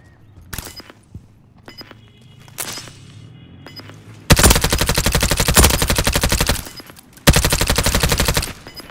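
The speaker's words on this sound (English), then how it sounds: "Taking effective fire." Bursts of automatic gunfire in Call of Duty: Modern Warfare 3 on a favela map, scattered single shots first, then two long, loud sustained rattling volleys close by.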